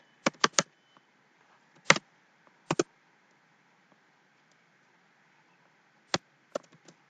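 Keyboard keys clicking as Java code is typed in NetBeans: short bursts of two or three sharp taps separated by pauses, close and fairly quiet with no talking.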